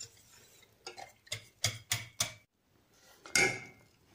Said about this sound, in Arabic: نبقاو نحركو حتى يعقد لينا الخليط